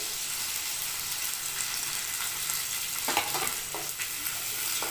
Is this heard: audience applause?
no